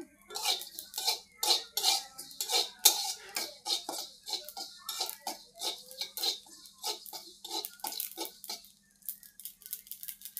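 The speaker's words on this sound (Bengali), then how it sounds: "আমি তেল ছাড়া কালি জিরাটি ভাজে নিতেছি" Dry, rapid crackling and popping of nigella seeds dry-roasting without oil in a hot pan, close and irregular, with occasional scraping against the metal.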